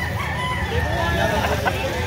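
A rooster crows at a cockfighting gamefowl sale in Carbon, Cebu City, its call rising over a steady crowd murmur and nearby chatter, loud and close for the whole stretch.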